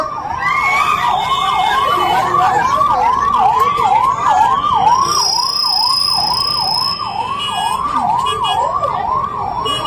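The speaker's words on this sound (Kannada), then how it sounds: "ಆ ಆಂಬ್ಯುಲೆನ್ಸ್ ದಯವಿಟ್ಟು ಎಲ್ಲ ಜಾಗ ಕೊಡ್ರಿ ನೋಡೋಣ" An ambulance siren wails in a fast, repeating up-and-down cycle, loud and close, through a large Ganesh immersion procession in Mudhol, continuing for the whole stretch with traffic noise underneath.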